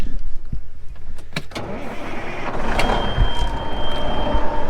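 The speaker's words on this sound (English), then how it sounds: "I'm actually going to take this semi down to our next field" A semi truck on a farm with its engine running in a steady low rumble, plus a few sharp clunks and a door thud near the start, heard close and loud with no talk.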